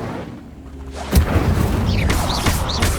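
An Incendio fire spell cast in Hogwarts Legacy, a sudden whooshing burst followed by sustained roaring flame with repeated crackling swells, loud and close.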